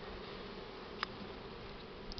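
Honeybees hum softly and continuously at a hive outdoors in cool spring weather, a faint, even drone with one sharp tick midway and a couple of small flutters near the end.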